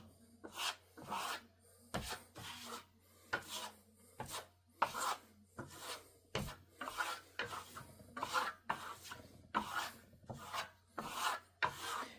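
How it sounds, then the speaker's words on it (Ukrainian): FEIDAL matte Venetian plaster goes on with short trowel strokes: steady, quiet rasping scrapes repeating about once a second, close up and with no speech. "Наносимо так, як і другий, більш короткими мазками."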